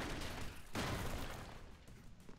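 Rumbling bursts of explosions in the game Broforce, one sharp boom midway followed by decaying crackle, dense and loud.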